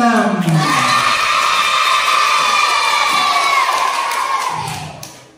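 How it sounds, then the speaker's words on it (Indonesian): Sixth-grade children at a school closing ceremony erupt in loud, sustained cheering and shouting for the first-place winner, a dense crowd of high young voices that holds steady and then fades near the end. "Berikutnya juara 1 kita sambut dengan tepuk tangan yang sangat meriah dari kelas 6"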